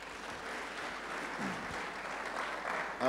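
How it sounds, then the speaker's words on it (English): An audience at a business and entrepreneurship masterclass applauds a 15-year-old girl, a soft, even wash of clapping heard from a distance for about three seconds, ending in a brief louder bump. "let's give a round of applause to the young girl at 15 years"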